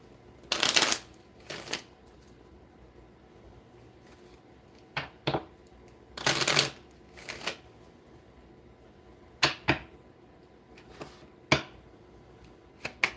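Tarot cards shuffled by hand in several distinct bursts of riffling, each lasting about a second and separated by pauses, with a few sharper card taps and flicks in between, close and fairly quiet, with no speech.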